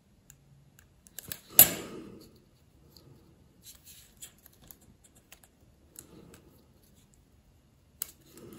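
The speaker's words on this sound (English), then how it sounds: "So we need to trim a part of this edge here." Trimming an overlapping edge of card on an Admiral Nakhimov 1/200 scale paper ship model: a single sharp snip near the start, followed by faint, sparse small clicks and rustles in a quiet room.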